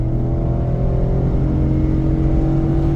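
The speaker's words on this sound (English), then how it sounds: "Hear that nice cold air intake barking." An old high-mileage truck with a cold air intake roars loudly and continuously under hard acceleration, a close, steady engine drone with no voices.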